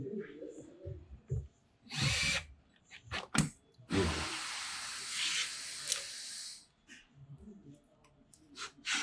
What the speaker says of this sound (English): Now, start popping the screws.